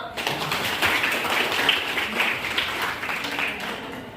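A classroom audience claps together in a sustained burst of applause lasting several seconds, steady and fairly loud, with dense overlapping hand claps and a little background voice noise mixed in.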